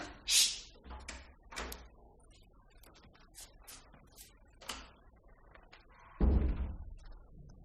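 A door in a French radio drama opens as someone comes in, giving a few thumps and knocks of the latch and wood, then a louder, closer bang near the end, with quiet gaps between.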